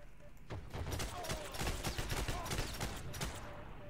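Rapid gunfire from the online World War II shooter Heroes & Generals, a dense burst of overlapping shots in close succession running for several seconds at steady volume.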